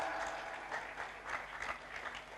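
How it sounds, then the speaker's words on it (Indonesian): Audience applause at an Islamic religious lecture given by a preacher in Indonesia, steady clapping from a crowd that stays fairly faint and even for a couple of seconds with no voices over it. "tepuk tangan sing banter, gak usah sungkan."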